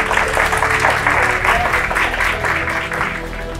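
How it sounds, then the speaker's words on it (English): An audience at a school engineering challenge finale with the Niftylift team applauds students and teachers, with close, dense clapping and a low hum and faint voices beneath. "can we give another big round of applause for all the amazing students, the teachers and the team at Niftylift as well"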